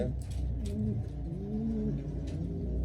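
Several racing pigeons coo continuously in overlapping low, throaty calls, close and moderately loud, with a faint chirp or two in the background of a loft.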